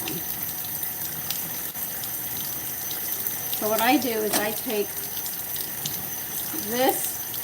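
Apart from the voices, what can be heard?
tap water running while washing wooden cutting boards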